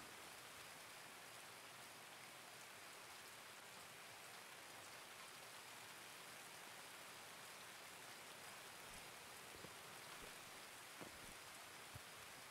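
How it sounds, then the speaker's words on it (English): Steady, dense rain hisses throughout the Escape From Tarkov game world, a constant broadband wash with a few faint thumps near the end and no voices. "Oh wait, the rain's getting worse."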